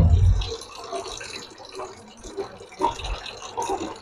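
Water runs steadily from the tap of an alkaline-based Nasaka RO water purifier, a close, continuous splashing trickle with slight bubbling fluctuations and no talk over it.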